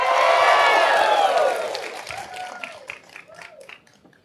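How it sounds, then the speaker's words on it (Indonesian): A crowd at a town-hall style "Desak Anies" event in Gorontalo breaks into loud cheering and whoops with clapping, strongest at first, then fading into thinner scattered claps and calls. "Tepuk tangan dulu."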